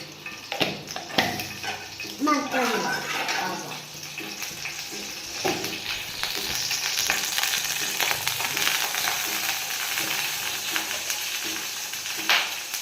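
Mustard seeds fry in hot coconut oil for lemon rice made from leftover rice, a close, steady crackling sizzle with some scraping and clatter early on, continuing throughout with no speech.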